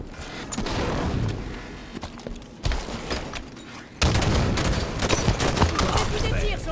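Sustained bursts of gunfire rattle through a video game battle, loud and dense with a couple of abrupt pauses, as voices chatter over the shooting.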